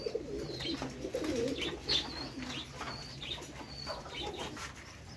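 Pigeons of several breeds coo steadily in a farm loft, overlapping throaty rolls near and far, with scattered thin chirps and a wing flutter or two across several seconds.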